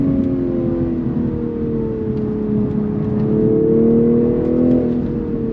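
A 2022 Toyota Supra 3.0 accelerates with a steady, rising engine drone and whir heard from inside the car, loud and continuous with no talking.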